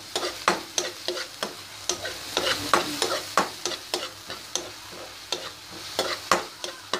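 Potatoes frying in a pan, stirred repeatedly: a rhythmic series of close scraping strokes roughly twice a second over a continuous sizzle, with no talking.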